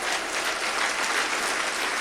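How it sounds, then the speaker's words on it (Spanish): Church congregation applauding the Lord, a dense, even wash of clapping that fills the space continuously without pause. "Dale un aplauso más fuerte al Señor."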